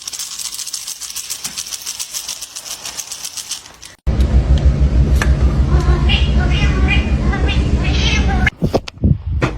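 A small kitten meows loudly and close by, several short cries over a steady rattling background, with people talking nearby.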